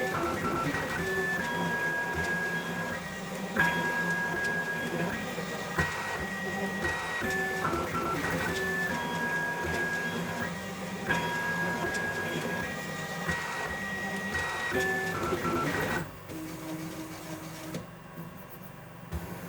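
An Akula 3 magnetic IDEX 3D printer with ball bearing linear rails runs a speed test at 300 mm/s and 20k acceleration, a steady whirring stepper-motor whine with rising and falling tones, ending in a quieter hum.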